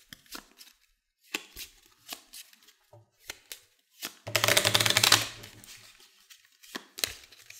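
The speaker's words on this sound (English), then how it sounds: "I have to shuffle because I have to draw a card." A deck of playing cards is shuffled during a tabletop card game, scattered taps and flicks leading into a dense riffle burst, then more light card handling.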